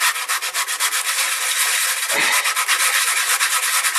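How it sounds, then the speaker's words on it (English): Rhythmic rubbing strokes of a sanding block along the edge of wood veneer, close and steady, with a brief pause midway before the back-and-forth resumes. "Get your sanding block and give the edge a sand while holding down your veneer"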